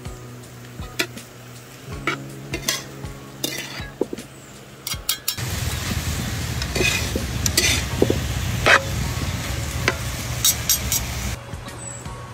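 Pad krapao being stir-fried in a pan, with intermittent clinks and scrapes of a utensil at first, then a louder, steady sizzle and frying hiss with repeated stirring strokes, close and continuous.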